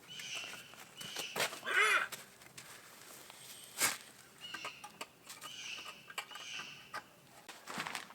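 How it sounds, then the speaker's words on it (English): Harsh, squawking bird calls burst out a few times outdoors, loud and agitated, with rustling and faint movement between them. "bird sounds aggressive."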